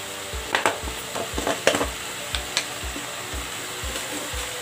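Leafy greens being sautéed in a pan for a Tamil thuvayal, with repeated stirring scrapes in a steady rhythm over a soft, continuous sizzle, close and moderately loud, with no talking.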